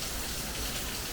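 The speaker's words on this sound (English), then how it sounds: "That's rain." Steady rain falls in a dense, even hiss, close and continuous across the short moment with no voices.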